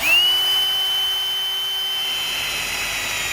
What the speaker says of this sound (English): I'm going to be using an 1/8 inch drill bit to drill the hole out